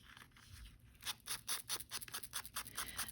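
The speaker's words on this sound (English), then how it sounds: "I am going to sand the washi off." Sanding washi tape off a paper edge: after a quiet start, a series of soft, quick rasping strokes in an uneven rhythm, close and faint, with no talk.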